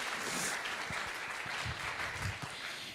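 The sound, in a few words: audience applause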